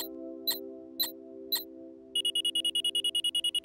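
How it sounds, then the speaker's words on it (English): Cartoon break-reminder invention going off: four spaced clicking ticks followed by a fast, even run of high electronic alarm beeps, clear and close with no talk. "When the alarm sounds, that means it's time for a break."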